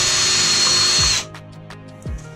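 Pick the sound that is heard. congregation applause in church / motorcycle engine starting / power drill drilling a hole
power drill drilling a hole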